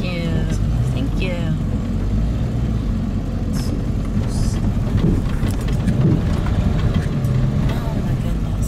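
A truck camper lurches along a crazy bumpy dirt road to Cabo Pulmo, with a continuous heavy rumble, thuds and rattling from inside the cab.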